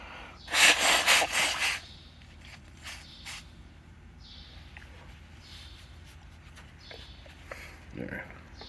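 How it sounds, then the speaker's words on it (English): A person with a head cold blows their nose in one loud, close, sputtering burst lasting about a second, followed by sniffles, breaths and small movements. "I need to blow my nose."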